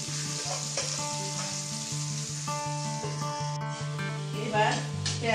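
Carrots for chicken chowmein sizzle in a pan, a steady frying hiss with light clinks, partly under tonal background music.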